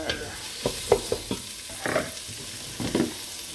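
Butter sizzles in a pan with chicken feet, a steady crackling hiss punctuated by several scraping stirs and clinks at irregular intervals, close and alone without speech.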